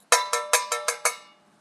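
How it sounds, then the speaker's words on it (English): Six metallic strikes on a crumpled sheet of metal in a chemistry lesson demonstrating sonorous metal, each a sharp bright clang that rings briefly, evenly spaced over about a second, close and clear with no talk. "When I crush it or bend it or hit it, hit it."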